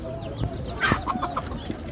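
Chickens cluck close by in a short burst of quick clucks, over faint background chatter at a poultry market in Ganja, Azerbaijan.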